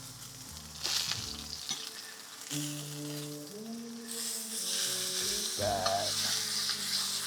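Steak sears in a hot pan with butter and ghee, giving a steady, close sizzle that swells louder partway through, while a jazz tune plays in the background and a voice briefly speaks.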